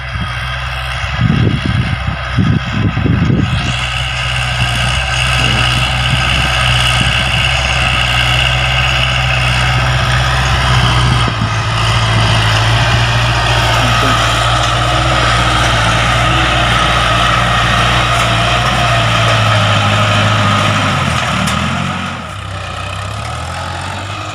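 A Kubota L5018 tractor, 50 to 60 horsepower and used for planting and burying fertilizer, idles with a steady loud low rumble that holds for over twenty seconds and eases lower near the end, with no one speaking.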